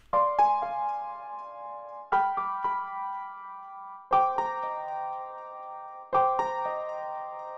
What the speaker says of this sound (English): I added a counter melody which complements the above samples